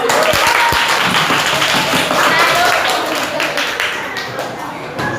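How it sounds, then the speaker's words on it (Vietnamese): A seventh-grade class of students applauds in a classroom, a dense, close burst of clapping that slowly thins, with voices mixed in. "Rồi vỗ tay lại nữa đi."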